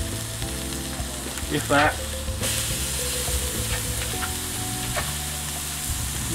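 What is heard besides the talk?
rump steak sizzling on a Weber barbecue grill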